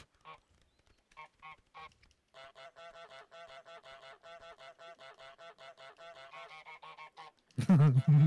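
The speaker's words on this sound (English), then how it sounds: "I love the way that they're two different honks as well. Yeah, two different geese." Honking geese in the Untitled Goose Game, a few separate honks followed by a long rapid run of repeated honks, then a louder burst at the end, clear and close.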